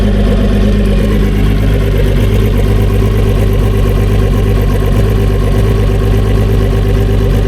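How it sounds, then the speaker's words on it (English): A newer-technology two-stroke outboard on a boat runs steadily with a lumpy, uneven idle, its low engine drone close and loud and continuous throughout with no speech. "It's not a 4-stroke, it's still new technology 2-stroke, but it just sounds that lumpy."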